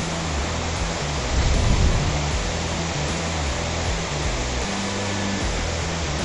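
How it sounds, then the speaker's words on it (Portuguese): Broad, steady roar of falling water at Andorinha waterfall, a constant close wash of noise lasting throughout with slight swells, no voices. "ali embaixo da cachoeira da Andorinha."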